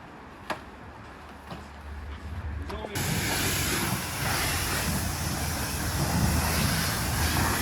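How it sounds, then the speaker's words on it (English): A pressure jet washer rinsing shampoo suds off a Mercedes HGV, starting abruptly after a few faint clicks and continuing as a steady, loud hissing spray up close. "jet washing off the remaining suds off the shampoo"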